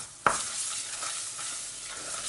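Flour and tomato paste toasted in a pan, with a sharp clink of the spoon at the start followed by a steady close sizzle and soft stirring.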